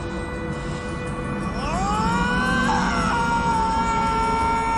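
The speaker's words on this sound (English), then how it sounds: "Like Frank's scream here at the end could mean one of two things." Frank, the video game character from Dead Rising, lets out a long, loud anguished scream that rises and wavers before trailing off, with no talking over it.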